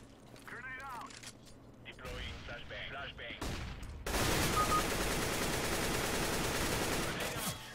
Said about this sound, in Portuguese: E agora disparou outra vez para o Altarice